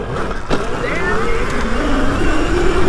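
Electric pit bikes, including a Razor MX650 upgraded to 72 volts, racing side by side: a steady rising electric motor whine with tyre and wind rush, loud and close and building over a few seconds, with voices calling out.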